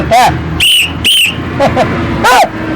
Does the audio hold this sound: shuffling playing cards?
no